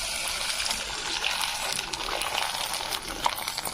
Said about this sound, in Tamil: பாருங்க, நல்லா பொரிஞ்சு வருது.